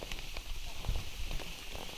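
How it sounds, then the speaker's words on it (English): Rain falling at night on Mount Kinabalu in Malaysia, a steady patter of drops on surfaces with a few louder taps, continuous throughout. "It's raining and dark."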